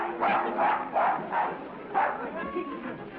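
Small dog barking repeatedly in a 1930s casino, a series of sharp yaps spaced about every half second, fairly close, over a murmur of crowd and voices.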